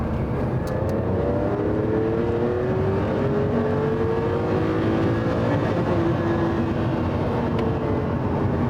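Ferrari Testarossa flat-twelve engine accelerating smoothly through the mid-range, a loud continuous rising drone heard from inside the car, alone without talk.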